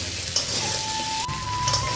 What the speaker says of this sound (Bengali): এবার এই তেলের মধ্যেই আলুটা ভেজে নেব।